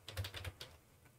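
Fingers type a short string on a computer keyboard, a quick burst of light clicking keystrokes, close and faint, with no voice.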